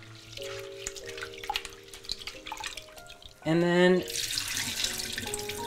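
Tap water runs into a sink while lentils (dal) are rinsed. A short, strong gush of water comes midway and is followed by gentle splashing and drips, with background music and a voice talking briefly.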